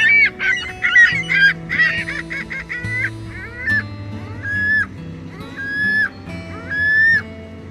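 Geese honk repeatedly in a California park, loud, nasal calls coming in bursts and overlapping, with a lower steady murmur of other birds and ambient park noise beneath.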